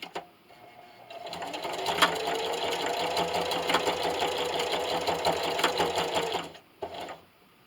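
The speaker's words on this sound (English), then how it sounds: "So now I'm just going to back stitch about 3 or 4 times." A sewing machine back stitches on fabric for a tablet stand, a steady close mechanical whir with rapid needle clatter running several seconds before stopping, then a brief short burst near the end.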